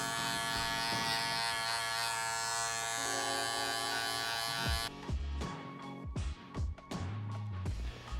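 Electric hair clippers fitted with a 4 guard buzz steadily while trimming a beard against the grain on the cheeks, a close continuous hum that breaks into short bursts and pauses as the clipper is lifted and repositioned.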